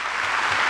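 Audience at a religious television program clapping, a brief dense burst of applause.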